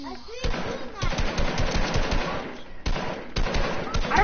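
Rapid automatic video game gunfire rattles in dense, loud bursts with a short pause midway, and a voice talks faintly underneath.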